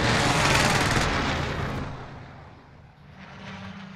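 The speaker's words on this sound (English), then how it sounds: "Precision airstrike missed." A precision airstrike in Call of Duty on Rebirth Island, a loud rolling barrage of blasts and gunfire-like rumble that peaks early and gradually fades over a few seconds.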